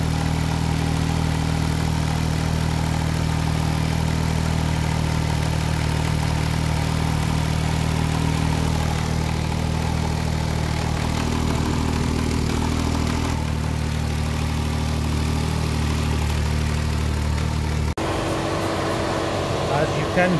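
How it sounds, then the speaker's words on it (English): A Smart Fortwo W451 coupe's 1.0 L engine idles steadily and loudly up close during cooling system bleeding as the radiator fan switches on, adding a constant whooshing hum, with a sudden shift in tone near the end. "Can hear the radiator fan has kicked on or has turned on, as you can hear."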